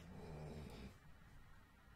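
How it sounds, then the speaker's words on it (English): A dog snores faintly and close by, a brief low rumbling breath that fades after about a second into quiet room noise. "Stop it, my dog snores."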